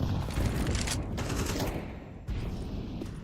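Sustained AK rifle fire crackles through a Counter-Strike pro league match, dense rapid bursts filling the whole stretch with little pause, loud and close, with no voices standing out.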